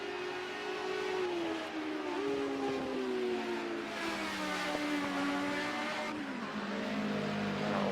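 Group A Ford Sierra touring cars screaming along the pit straight at Silverstone International in a racing video game, engines revving hard with harmonic whine rising and falling through gear changes, loud and continuous without pause.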